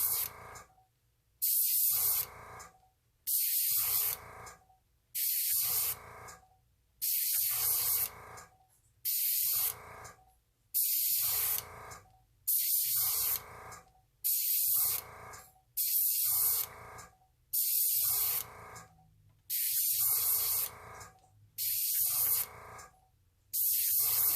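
A compressor-driven airbrush set to 40 PSI sprays alcohol ink in about a dozen short, evenly spaced bursts of loud, close hissing, each separated by brief silence.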